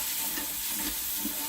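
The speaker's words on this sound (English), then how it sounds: "We're going to stir that in." A spoon stirs a pot of vegan fifteen-bean chilli over medium heat, giving soft scraping and a constant low simmering hiss, with a few gentle thuds of the spoon against the pot.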